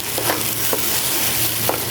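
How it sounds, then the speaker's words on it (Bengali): Rice frying in mustard oil, stirred in the pot, giving a steady loud sizzle with a few scraping strokes of the spoon throughout. "আর ভাজার আওয়াজটা তো এই যে সনসন হলে বোঝা যায় যে ভাজা হয়ে গেছে"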